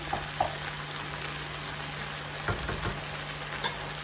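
Washed mushrooms sizzle in a pan on a home stove, a soft steady frying hiss with a few faint stirring clicks, no talk.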